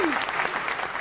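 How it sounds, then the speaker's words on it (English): A studio audience claps briefly at the start of a movie talk show, a short, dense burst of applause lasting about a second. "I love that clapping"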